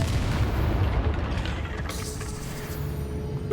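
A Confringo blasting spell goes off in Hogwarts Legacy during a spider fight, giving a heavy, sustained booming rumble that stays loud throughout.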